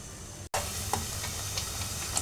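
Spice masala for beef head meat fries in a pan, giving a faint, steady sizzle and hiss. A brief dropout interrupts it near the start, followed by a few soft stirring scrapes.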